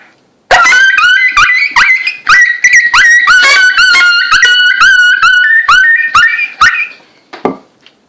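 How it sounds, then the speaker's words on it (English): Coyote pup distress blown on a FOXPRO two-reed diaphragm call: a rapid, loud run of high yelping squeals and whines, one after another for several seconds, then fading off into a couple of weaker cries. "I'll do some pup distress on this as well."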